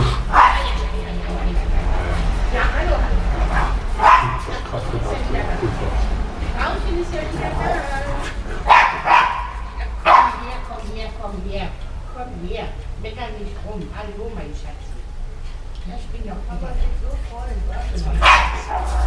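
A dog barks in short repeated bursts, several sharp yips and woofs spread across the stretch, mixed with people talking nearby over a low rumbling background.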